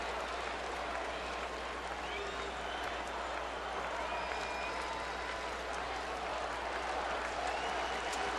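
Baseball crowd at a Cardinals game in Milwaukee applauding and cheering, a steady, distant wash of clapping and crowd noise throughout.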